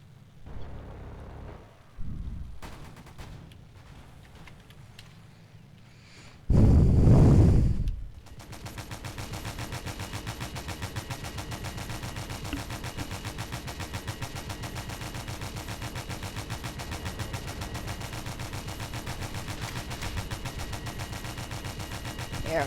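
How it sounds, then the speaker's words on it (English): Video-game gunfire in Diplomatic Wars: a few scattered shots early on, one loud blast burst, then a long sustained rattling stream of rapid automatic fire that continues steadily to the end. "if I keep firing blindly"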